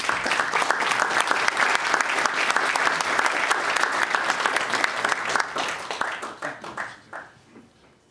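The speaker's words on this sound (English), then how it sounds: "A round of applause for Neil" A lecture audience at the annual Paviors Lecture applauds steadily, a dense, even wash of many hands that holds for several seconds, then thins into scattered claps and fades out.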